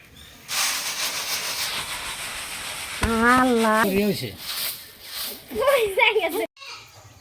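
Puffed rice roasts in a pan with a dry, steady hiss and rustle that runs for several seconds, while a person talks over parts of it.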